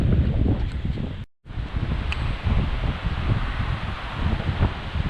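Gusty wind buffets the microphone on a riverside walking trail along Hadrian's Wall, a loud, close, rumbling rush that holds steady apart from one abrupt brief dropout.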